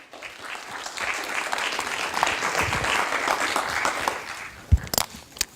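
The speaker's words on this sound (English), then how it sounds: "Let's give them a warm round of applause." Warm audience applause for the panel speakers at a blockchain and finance conference, a dense burst of many hands that rises quickly, holds steady and tapers off, with a couple of sharp knocks near the end.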